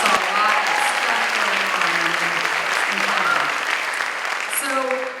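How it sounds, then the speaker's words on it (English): Steady, dense applause from an awards-ceremony audience honoring the tech crew at the Saint Louis Visionary Awards, a continuous wash of many hands clapping that holds strong throughout with faint voices beneath, tapering slightly at the end. "The tech crew back there needs a round of applause too"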